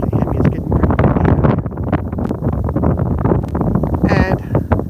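Gusty wind buffets an outdoor microphone in a steady roar, with a person talking over it throughout near a motorcycle on the road.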